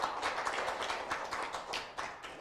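Audience applause at a nurses' association general assembly and forum, a brisk cluster of hand claps with distinct individual claps standing out, steady over the short stretch.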